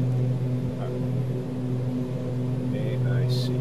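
Aircraft engines running, a steady loud drone with strong low tonal hum throughout, under a voice talking and a few brief beeps near the end.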